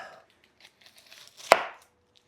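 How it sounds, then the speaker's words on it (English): A chef's knife slicing an onion from pole to pole on a cutting board, a few soft scrapes and then one sharp, close thunk as the blade hits the board, otherwise quiet. "take your onion and cut it from the pole to the pole"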